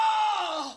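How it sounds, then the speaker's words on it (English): A short male scream sound effect, one loud, brief cry that slides slightly downward in pitch and fades out within a second. "Male Scream 1 Quite short."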